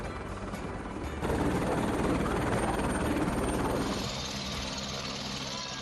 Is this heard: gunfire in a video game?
no